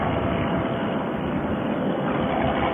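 A paramotor engine drones steadily and loudly in flight, a continuous close roar and rush of wind with no pauses.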